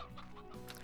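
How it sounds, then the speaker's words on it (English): Chickens in a pen in the farming game Slime Rancher, giving a brief, faint run of soft clucks with no talk over them. "there's a ton of chickens in the other pen already"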